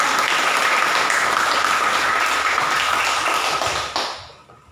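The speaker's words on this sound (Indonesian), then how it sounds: "Tepuk tangan dong buat kalian semua." Steady audience applause on a cloudy, rainy morning at a teacher training event in Indonesia, dense and even for about four seconds before quickly tapering off to quiet.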